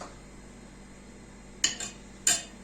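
A spoon stirs fava beans for ful medames in a pressure-cooker pot, giving two sharp metallic clinks about a second apart over a quiet, steady kitchen hum.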